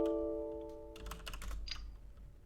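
Quick, uneven keystrokes on a computer keyboard while commands are entered on a remote cloud machine in a network security session. The close, clicky taps start after about a second of quiet electrical hum.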